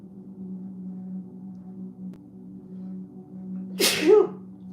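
A single sharp sneeze bursts out near the end over a quiet indoor room with a low steady hum.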